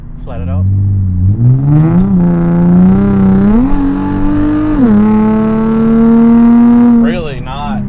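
An Infiniti G35 sedan fitted with a Z1 touring exhaust revs hard under full throttle, its engine note climbing in a rising howl through gear changes near 7,000 rpm before easing off, loud and close with voices briefly heard.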